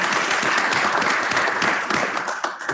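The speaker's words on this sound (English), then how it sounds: "And I think we owe him a round of applause." Applause fills a city council meeting chamber, a steady broadband patter of many hands clapping that stays loud and dense throughout, easing slightly near the end with a few scattered claps.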